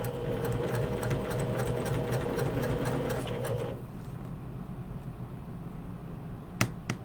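A sewing machine stitches a shirt seam with a rapid, rhythmic clatter for several seconds, then stops, leaving a quiet room hum with a couple of sharp clicks near the end.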